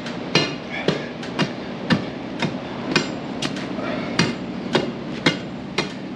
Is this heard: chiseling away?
yes